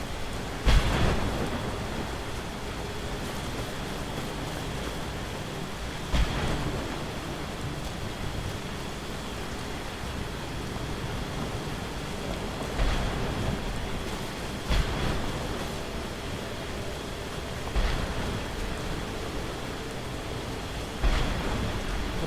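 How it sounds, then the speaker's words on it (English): Torrential rain from the Stormcall shout in Skyrim, a steady heavy downpour hiss throughout with several loud thunder cracks and rumbles recurring every few seconds, no talking. "The one drawback of Stormcall, of course, Elwynn has to get wet in a torrential downpour."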